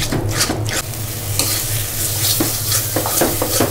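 Fried bata fish is stirred into a sizzling dish in a pan with a utensil, giving a steady frying hiss with a quick scraping rhythm, close and loud.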